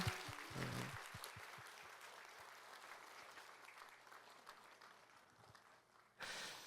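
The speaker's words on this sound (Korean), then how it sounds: "우리 축하와 격려의 박수 보내주세요" Congregation applause during a Sunday church service, a blessing for a family, rising briefly at first, then a long, soft, fading patter of clapping from a distance, with a louder burst returning at the end.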